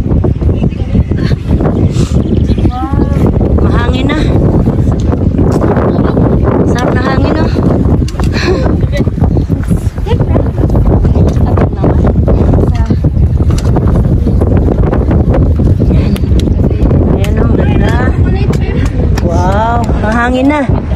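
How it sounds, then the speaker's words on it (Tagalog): Strong gusts buffet the microphone on a mountain hiking trail through a gorge, a loud, continuous low rumble with bursts of roaring, while people talk over it throughout. "Ganda, mahangin lang. Mahangin na siya."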